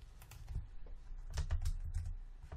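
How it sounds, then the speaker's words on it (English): A computer keyboard is typed on in quick, close clicking bursts, with a brief pause before a denser run of keystrokes. "let me type down there, building, and let's hit create"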